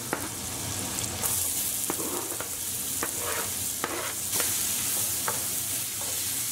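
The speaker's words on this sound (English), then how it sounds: "we just want to fry our onion until they're softened and brown" Onion frying in hot oil in a saucepan over medium-high heat, a steady close sizzle with occasional stirring scrapes, no voices.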